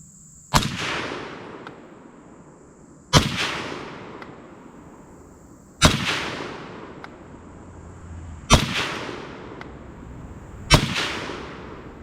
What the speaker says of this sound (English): now we're trying some of this Power Shock 30 carbine, 110 grain, same grains before